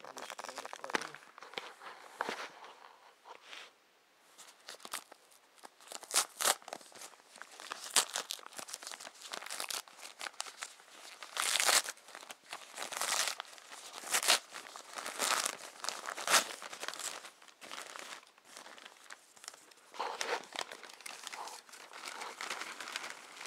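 Paper envelope holding a package is opened by hand, with sharp tearing and dense crinkling and crumpling running continuously, close and fairly loud, with a few brief bursts.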